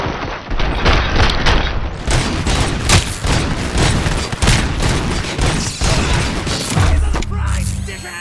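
Sustained gunfire in RoboCop: Rogue City, a dense run of loud, rapid shots with heavy mechanical clanks and booms filling most of the stretch, then cutting off abruptly near the end.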